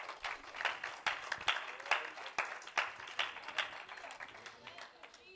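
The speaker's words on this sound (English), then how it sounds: "Let's clap our hands to Jesus." A church congregation claps along in worship, rhythmic and fairly quiet, the hand claps falling roughly in time with voices alongside.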